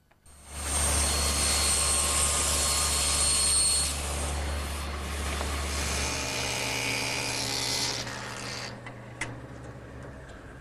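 A table saw cuts a dado in wood, a loud, steady whine that runs for several seconds, eases in pitch, then spins down and fades out.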